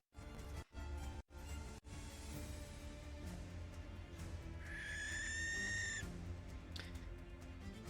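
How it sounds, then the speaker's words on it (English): A distant owl-like screech rises out of a low rumbling fantasy soundscape, one drawn-out shrill cry standing alone over the steady ambient drone. "You hear a distant screeching like an owl somewhere out in the vastness of Yithrin."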